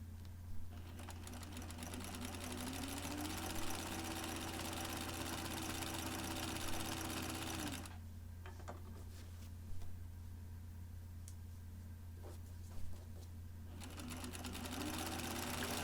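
A sewing machine stitches a seam on an A-line skirt, a close steady motor whir with rapid needle chatter that pauses briefly midway before resuming.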